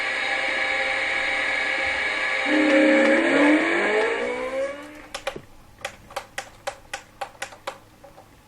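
Formula 1 cars roaring and rising in pitch in the F1 2013 video game at Suzuka for the Japanese Grand Prix, fading out and followed by a run of sharp, evenly spaced clicks.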